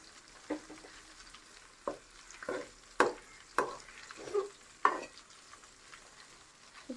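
Chicken fries in oil in a Chinese-style wok, giving a low background sizzle broken by a series of sharp scraping stirs at irregular intervals. The cooking sounds are fairly faint and close, with no talking.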